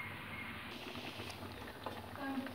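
Moong dal simmering in a pot of salted water makes a steady low bubbling and faint patter, close and continuous, with a few brief clinks over the top.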